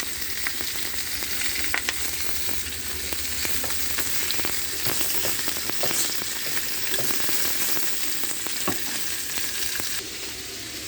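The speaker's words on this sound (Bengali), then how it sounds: "মাথা লেজা ভাজা হয়ে গেছে" Grass carp head and tail frying in oil, producing a loud, close, steady sizzle thick with crackles and spits, with some stirring scrapes, running continuously before easing slightly near the end; no voices.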